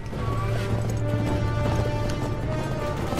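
A horse gallops in the video game Uncharted 3, a quick run of hoof clip-clops under steady game ambience and background music, moderately loud and close.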